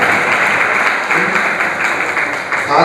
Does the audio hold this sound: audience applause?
yes